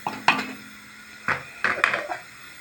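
A mushroom mixture being stirred in a pan, heard as a few separate knocks and scrapes of a utensil against the pan with quiet gaps between them.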